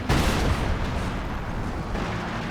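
A howitzer artillery barrage in a World War II strategy game: a loud, close explosion opens the clip, followed by rumbling blasts and a second impact near the end, with dense battle noise throughout.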